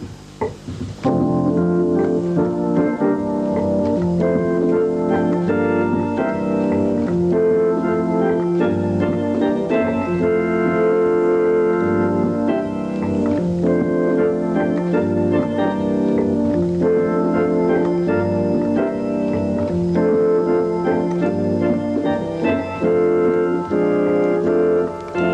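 A home organ plays a simple tune with sustained right-hand chords over bass pedal notes and a steady rhythm-box beat, loud and continuous with no talking.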